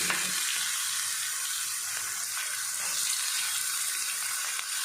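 Onions and spices frying in oil, a steady, close sizzle that holds at an even level throughout, with a bright hiss and no voices.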